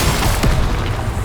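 A Bombarda spell goes off in Hogwarts Legacy as a single loud, low boom that rumbles briefly over the game's ambient noise.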